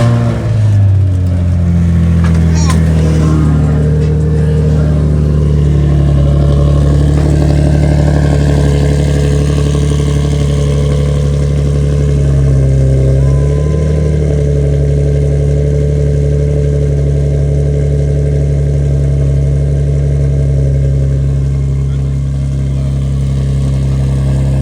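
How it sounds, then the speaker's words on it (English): A Nissan G35 engine idles close and loud, settling from a brief rev into a steady low rumble, then blips the throttle once more before returning to a smooth, continuous idle. "let's hear the car."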